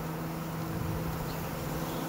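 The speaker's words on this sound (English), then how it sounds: "you saw I got a boatload of bees on this" Honeybees on a hive frame give off a steady, dense hum that stays even and continuous throughout, fairly close and unbroken by any voices.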